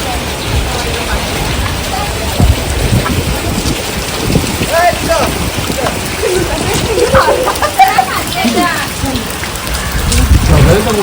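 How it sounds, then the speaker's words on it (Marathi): An outdoor beach shower runs with a steady, hissing spray of water, mixed with wind and faint voices in the background. "इथं शॉवर आहे, त्याच्यामध्ये सगळे आंघोळ करतात."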